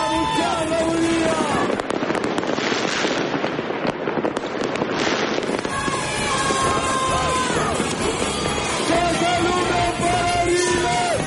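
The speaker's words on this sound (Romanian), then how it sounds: "Mii de oameni au țipat de fericire" A large crowd in Revolution Square, Romania, cheers and yells at New Year amid crackling fireworks and firecracker bangs, loud and continuous, with shouting voices rising over the explosions.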